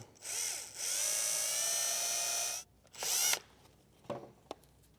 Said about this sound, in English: I'll take this and get it drilled out.